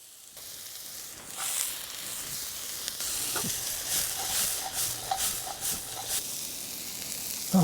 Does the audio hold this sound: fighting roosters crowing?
no